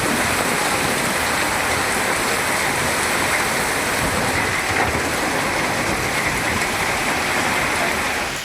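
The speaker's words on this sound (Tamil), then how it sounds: "சூறை காற்றுடன் மழை கொட்டியது" Heavy rain with gusty wind pours down in a dense, steady hiss and roar, loud and continuous throughout with no voices.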